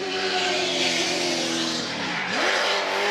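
A Ford race car with over 800 horsepower storms over a brow at Goodwood, its engine loud and close with a screaming, steady note that dips sharply in pitch as it passes, then climbs again with tyre noise.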